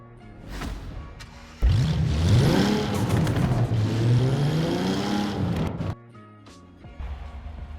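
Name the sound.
Toyota Supra engine driving in video game Forza Horizon 4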